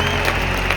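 A concert audience in an arena breaks into a brief, dense burst of loud clapping.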